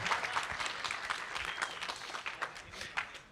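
An audience at a 3v3 competition event applauds the event staff, scattered individual claps over a thinner, steady patter of applause, moderately faint and continuing without talk.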